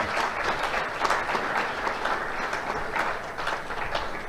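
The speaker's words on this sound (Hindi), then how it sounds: "तालियां." Audience applause at a birthday celebration address in London, a dense, steady clapping from a crowd that holds at an even level throughout without any talking.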